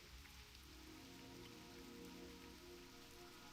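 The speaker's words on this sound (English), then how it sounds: "It's like raining over here, raining here, but it's not raining above me." Steady rain falling in World of Warcraft, a faint, even wash of drops pattering on surfaces, continuous and unbroken with no voices.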